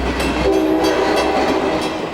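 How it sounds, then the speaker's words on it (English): A commuter train runs straight through the small South Bay town of Alviso without stopping, a steady loud rumble with a low roar and a sustained horn-like tone, close by and continuous, with no talking. "Trains do not slow down for Alviso. No, they go right on through."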